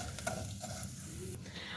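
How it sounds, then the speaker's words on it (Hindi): Vermicelli roasting in ghee on a low flame, a soft close sizzle with faint stirring scrapes, quiet and continuous. "बिल्कुल स्लो फ्लेम पे इसको भून लेंगे"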